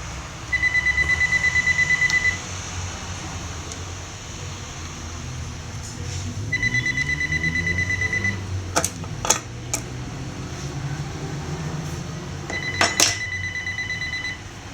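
An incoming call sets a phone ringing in three separate electronic trilling bursts, each about two seconds long and spaced several seconds apart, over a low background hum.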